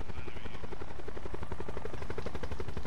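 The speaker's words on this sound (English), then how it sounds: "Terry, try to land in the helicopter." Helicopter in a shooter video game, a loud steady rotor thumping with rapid regular beats and engine whine, close and continuous, with no voices.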